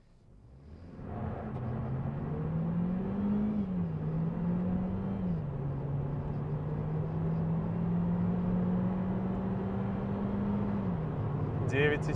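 An Omoda S5 GT sedan pulls away from a standstill in eco mode, its engine note rising steadily and holding a sustained drone for several seconds as speed builds, loud and close with a brief clatter at the end.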